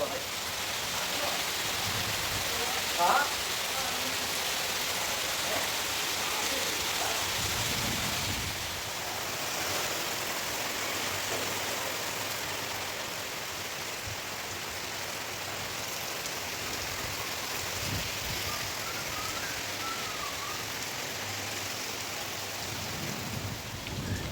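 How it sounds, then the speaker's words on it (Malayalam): Steady rain pours down as a continuous broadband hiss, with gusty wind texture and a faint voice or two in the background, during a storm with thunder. "മഴയോടൊപ്പം തന്നെ നല്ല കാറ്റും ഇടിവെട്ടും ഒക്കെ ഉണ്ടായിരുന്നു"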